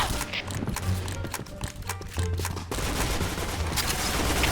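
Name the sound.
gunfire in a video game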